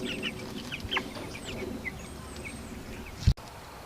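Young chicks kept in an indoor pen give soft, scattered high peeps and clucks over a steady low background hum, with one brief louder knock near the end.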